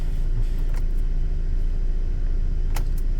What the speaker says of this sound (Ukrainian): Так, заводимо автомобіль.